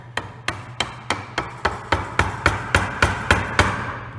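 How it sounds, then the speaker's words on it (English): A wooden mallet drives a chisel into a wooden mortise-and-tenon joint, striking about a dozen sharp, close, evenly spaced blows. "Drive the chisel down the side."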